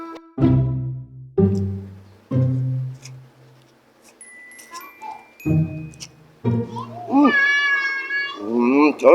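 A cat meows during a home vegetable mukbang with several separate close, loud cries, then rising, wavering caterwaul-like calls toward the end. A person talks at moments between the cries.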